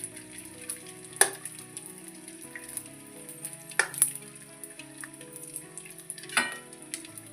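Edible gum (antu) frying in a pan of hot fat for North Karnataka-style gum laddoos, a steady soft sizzle with a few sharp pops and stirring clinks at intervals.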